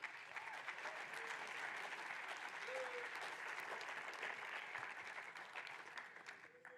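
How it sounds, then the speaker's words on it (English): An audience at an Indigenous Peoples' Day talk applauds to welcome a speaker, a sustained, even round of clapping heard from a distance and fairly faint, with faint voices and whoops threaded through it. "Please give her a round of applause."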